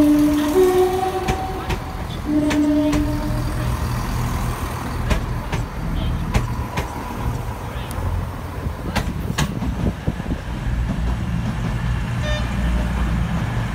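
A CrossCountry Class 222 diesel train at Leicester station sounds two short horn toots early on, followed by steady engine rumble and platform noise.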